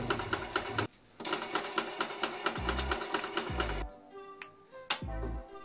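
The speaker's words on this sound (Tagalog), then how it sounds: "Ganyan yung magiging tunog niya mga kanegosyo kapag nag-i-initialize siya." An Epson L121 inkjet printer whirs and clicks through its initialization cycle, with repeated mechanical ticks, low thumps and motor hums at close range.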